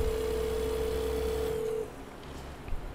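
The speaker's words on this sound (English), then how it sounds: "I don't think the phone's working." A telephone dial tone from the American Truck Simulator game, a steady unbroken tone that stops abruptly, leaving faint background noise.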